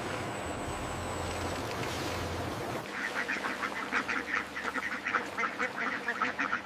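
Pekin ducks quack in a large duck farm, a dense chorus of overlapping calls at moderate distance after a stretch of steady mechanical hum and background noise.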